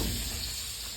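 Vegetables sizzle steadily in a pan in a home kitchen while a mother cooks, a continuous close, even hiss with no voices.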